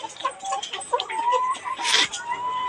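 Caged layer hens on a poultry farm cluck in a busy, overlapping chorus, with one louder squawk rising near the end.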